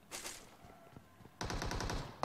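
Bursts of rapid suppressed M4 rifle gunfire in PUBG Mobile, a short volley followed by a longer, denser stretch of automatic shots, fairly close.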